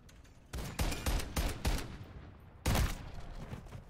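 Shotgun fire in a shooter game, five close, punchy blasts in a fairly even rhythm followed after a short pause by one more heavy shot, standing out over quiet background noise.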